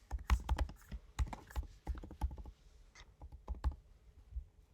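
Irregular bursts of clicky keystrokes on a computer keyboard while text is being typed into a design layout, close and fairly quiet, with short pauses between flurries and no talking.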